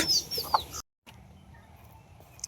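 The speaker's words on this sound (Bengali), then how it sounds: "বাড়ির মোরগ" A village rooster gives a few short clucks and squawks up close, then the sound cuts out briefly before quiet rural outdoor background returns.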